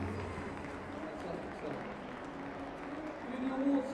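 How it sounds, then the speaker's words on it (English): An audience at a schools under-13 football cup final applauds the match officials, a broad crowd of claps blending into general noise and chatter, with voices rising toward the end. "Can you get a round of applause please for the officials?"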